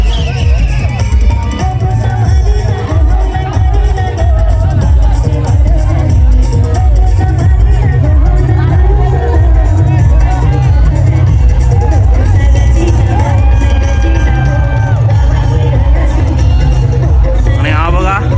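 A dense crowd celebrating Holi at Apta Koliwada, with loud continuous babble and shouting, music and traffic blending into a constant roar, and voices talking throughout.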